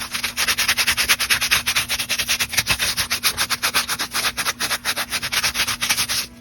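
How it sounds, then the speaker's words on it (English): A plastic Dollar Tree hockey mask is sanded in quick, even back-and-forth strokes, close and loud, with a steady low hum underneath. "Get nice and sanded. I'm even going to sand the back."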